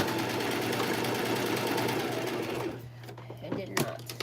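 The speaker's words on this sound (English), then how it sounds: "It's always when you want to just finish something that your serger stops working." Serger overlock sewing machine running steadily and close for about two and a half seconds, then stopping, followed by quiet handling noises.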